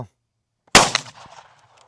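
A single sharp gunshot from a test-fired cartridge cracks out after a moment of silence, followed by a brief rattling echo that fades quickly outdoors.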